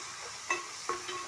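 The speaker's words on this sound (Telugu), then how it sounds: "కలుపుకుందాం." Bottle gourd curry with coconut milk stirred in a pan, a faint sizzle broken by two or three soft scrapes and knocks of a spoon, close and without talk.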